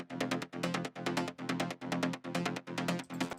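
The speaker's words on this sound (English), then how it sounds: "Those 3 mid basses together sound like this." Three layered synth mid basses from a trance track pulse together in a steady rhythmic pattern, about eight punchy gated hits, bright and full, with no talking.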